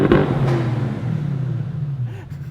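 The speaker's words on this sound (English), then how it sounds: "Up front is a twin turbocharged V8, and it makes wonderful noises." A Bentley Continental GT V8 S with a twin-turbocharged V8, revved in neutral: a loud, close engine blip that rises, then settles into a deep steady idle rumble with a faint whir.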